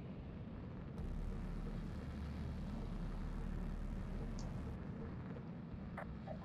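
A jet fighter, an F-4, taking off in Ace Combat Assault Horizon: a steady, low engine roar that kicks in abruptly after about a second and holds as a continuous rumble, with a few faint higher blips near the end.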